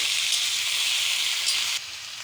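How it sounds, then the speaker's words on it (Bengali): Pumpkin and Malabar spinach sauté in a hot pan, giving a steady, close sizzle and hiss that runs unbroken, dropping slightly in level near the end. "এতে আমি এবার সবজিটা তুলে দেব ভালো করে সবজিটাকে কষিয়ে নিতে হবে"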